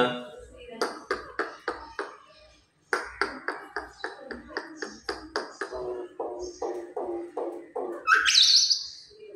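A myna bird calls in a rapid series of sharp, clicking chirps repeated in bursts, close and fairly loud, ending in a higher whistled squeal.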